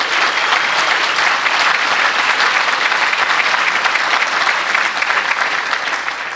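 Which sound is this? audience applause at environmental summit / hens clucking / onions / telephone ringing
audience applause at environmental summit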